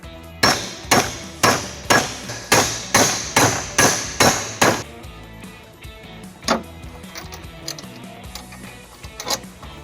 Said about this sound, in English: I'm going to use a hammer to flatten it out.